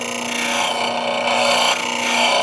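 A woodturning gouge is ground on a bench grinder, giving a steady abrasive hiss and rasp over the motor's constant hum, close and continuous.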